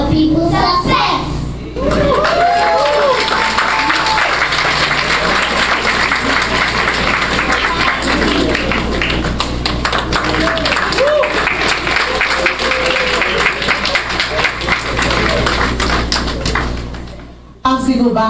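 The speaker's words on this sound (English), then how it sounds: "let's have a rousing round of applause" Sustained audience applause at a government ceremony launching a digital content initiative: loud, dense clapping that runs steadily for about seventeen seconds with crowd voices mixed in, then cuts off abruptly.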